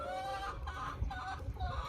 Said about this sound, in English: let's talk about these roosters